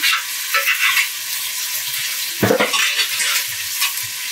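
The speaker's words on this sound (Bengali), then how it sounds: "এখন আমি একে একে সব মশলা দিয়ে দিচ্ছি। এখানে প্রথমে দিলাম আমি আদা রসুন বাটা" Ginger garlic paste hitting a hot pan for a Bengali fish-head murighonto: a steady close sizzle with occasional stirring scrapes and a sharp clatter midway, no voices.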